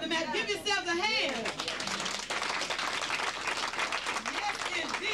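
Audience applause fills the room, dense steady clapping with some crowd chatter and a voice rising over the start, continuing loudly throughout.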